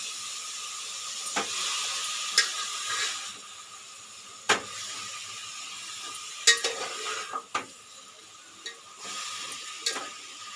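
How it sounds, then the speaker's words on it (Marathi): Fenugreek leaves being stirred and sautéed in a pan, heard as a soft continuous sizzle broken by scattered scraping and tapping from the spoon against the pan. "ढवळायची म्हणजे परतायची."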